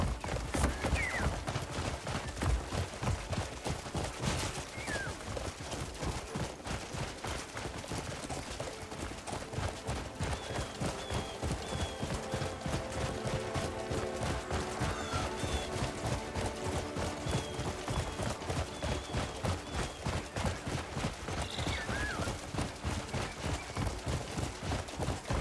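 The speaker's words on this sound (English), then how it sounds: "I will have that horse." Horse hooves clip-clop in a steady, rapid rhythm in the video game Crimson Desert, a quiet continuous gallop with faint ambient game sounds.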